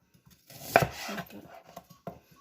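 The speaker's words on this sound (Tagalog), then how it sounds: "Maghihiwa po tayo ng sibuyas at bawang." A few close knife chops and scrapes on a cutting board while cutting onion and garlic, one sharp hit followed by softer irregular taps.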